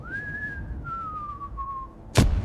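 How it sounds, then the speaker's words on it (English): Artillery shell whistling overhead as a war sound effect, one long descending whistle that falls gradually in pitch, followed by a sharp, loud impact burst. "A shell screamed overhead,"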